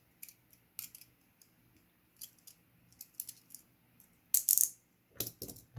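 Short scissor-like snips while an iPhone 7 is taken apart, several sparse cuts spaced across a few seconds, with louder, sharper snips near the end, close and otherwise quiet.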